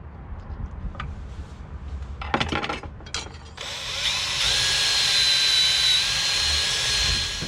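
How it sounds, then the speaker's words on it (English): A power drill bores a hole through a wooden boat part for a copper rivet, a steady close whine holding for several seconds after a few short knocks and handling noises. "drill a hole this way, 90 degrees to these holes, between the two holes, which is going to be the rivet"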